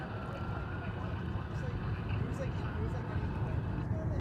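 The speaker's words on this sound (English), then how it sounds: "It's an A319." An Airbus A319 airliner at Dallas/Fort Worth Airport, a steady distant engine roar and rumble that holds evenly while a voice talks over it.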